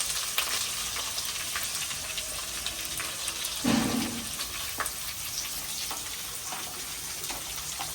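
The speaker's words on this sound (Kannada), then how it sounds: "ನೆಕ್ಸ್ಟ್ ನಾನು ಈರುಳ್ಳಿ ಹಾಕ್ಕೊತಾ ಇದ್ದೀನಿ ಅದಕ್ಕೆ" Onions fry in hot oil with a steady, crackling sizzle, broken by a brief louder splash and sputter as they are added or stirred midway.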